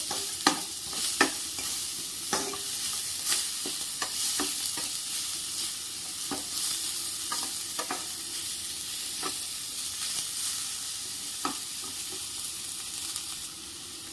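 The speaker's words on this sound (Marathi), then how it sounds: "बारीक चिरलेला कांदा, हलवून घ्यायचं" Finely chopped onion stirred in a hot pan for a Maharashtrian fresh turmeric dish, a soft ongoing sizzle punctuated by repeated spatula taps and scrapes, close and unaccompanied by talk.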